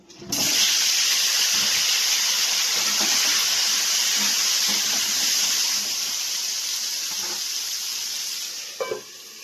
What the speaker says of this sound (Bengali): তেল গরম হয়ে গেছে পটলগুলো দিয়ে দেবো